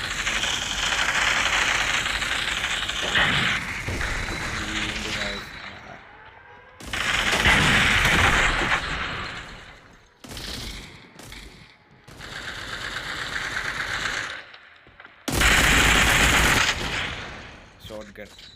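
Rapid automatic gunfire and heavier shotgun blasts in a World War II combat video game, coming in loud dense bursts separated by brief quieter gaps, with a voice talking at times.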